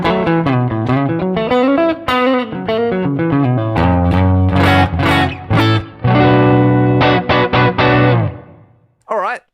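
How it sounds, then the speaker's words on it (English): A distorted electric guitar through a Pocket POD plays chords and melodic runs, washed in room reverb, sustained and loud before fading out near the end. "Let's hear the room."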